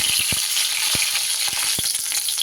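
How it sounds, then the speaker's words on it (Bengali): Cauliflower frying in a pan for a vegetarian mixed-vegetable dish, a loud continuous sizzle punctuated by sharp scraping knocks of stirring at an irregular pace, with no talk. "এবার ফুলকপিটা দিয়েও একটু সুন্দর করে নাড়াচাড়া করে নেব"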